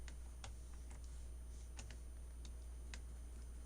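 Sparse, faint clicks of keys being pressed on a computer keyboard tick at irregular intervals over a steady low hum.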